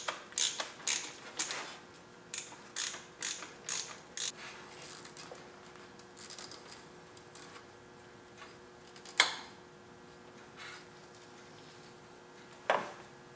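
Intermittent metallic clicks and ratcheting from a socket wrench while removing timing belt tensioner bolts on a BMW E30, close and fairly quiet, with bursts of clicks early on and a few isolated sharper knocks later.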